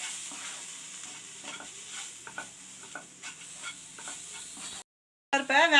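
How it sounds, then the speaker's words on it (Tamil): Spices, salt, chilli powder and an onion-tomato mix sizzle and hiss in a pan for drumstick leaves sambar while being stirred, with soft scraping strokes under the frying, a brief silence, then a louder burst. "இது எல்லாத்தையும் கிளறி விட்டுக்குங்க."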